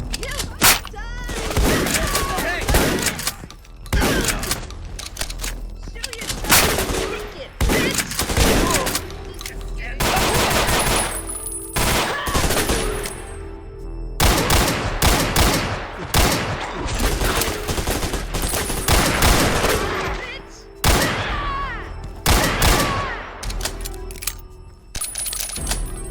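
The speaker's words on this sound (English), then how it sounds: "Let me just save in the stream of SMG fire." Rapid bursts of SMG fire from the Ashes: Afterglow game crack repeatedly in dense, loud volleys with short gaps, mixed with impact and shell-casing clinks throughout.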